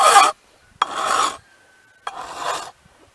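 A file rasps across a saw chain tooth in three separate strokes, each a bright, gritty scrape lasting about half a second, heard up close with short pauses in between.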